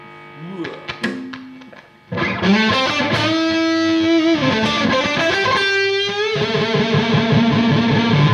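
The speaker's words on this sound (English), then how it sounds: "let's say I play with distortion" A distorted electric guitar plays, with notes bending and sustaining loudly after a few short plucked sounds.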